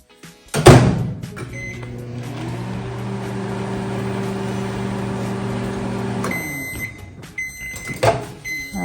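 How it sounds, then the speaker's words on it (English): A microwave oven melting chocolate in a bowl hums steadily for several seconds after a door thump and button press, then stops, followed by a few beeps and clicks. "Microwave it for 30 seconds"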